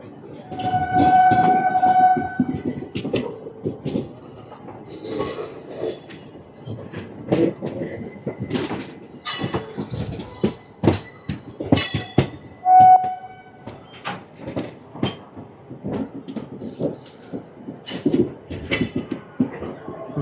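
The Circar Express rolls into Vijayawada Junction with clattering wheels and squealing rails, two brief horn blasts and a busy station din around it, loud and close.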